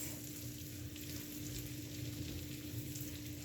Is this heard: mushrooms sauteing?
yes